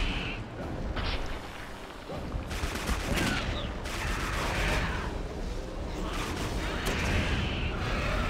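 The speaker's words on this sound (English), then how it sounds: "How many shots are these guys taking?" Dense, continuous gunfire from the shooter game Clive Barker's Jericho, rapid overlapping shots and booming blasts filling the whole stretch at high volume with no breaks.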